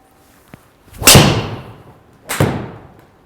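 A golf club with a Rogue Sub-Zero T1100 shaft strikes a ball with a sharp, loud crack. A second similar impact follows about a second later, each trailing off quickly.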